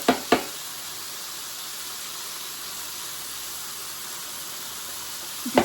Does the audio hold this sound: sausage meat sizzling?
yes